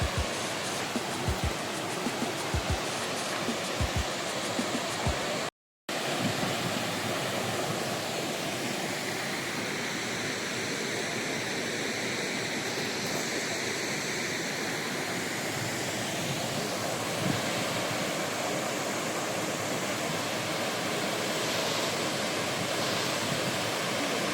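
Sariya waterfall pours in a steady, broadband rush of falling water that fills the scene without letup, with a few faint knocks early on and a brief dropout near the start.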